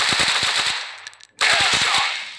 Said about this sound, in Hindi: बहुत ज़्यादा ही फायरिंग हो गई